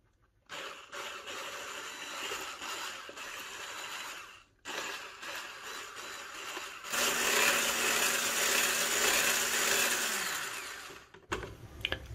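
A coffee mixture for a no-bake three-ingredient dessert is whisked in a bowl, giving a loud, continuous churning whir that breaks off briefly twice and then grows denser and brighter before stopping.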